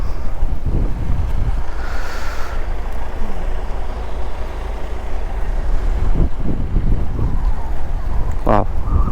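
Sea waves and gusting wind roar continuously along the open coast at Dhanushkodi, loud and close with buffeting microphone rumble and a few sharper knocks and a brief higher whine toward the end.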